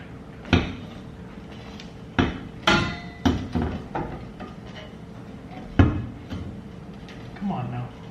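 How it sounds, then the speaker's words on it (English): A hammer taps a drive shaft dust cover on a Skyline: about eight sharp metallic knocks at uneven intervals, close and fairly loud, with people talking in between. "Is that just tap on, like with the hammer over that?"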